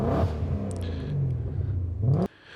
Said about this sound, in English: Just have a listen to that lovely, sweet engine sound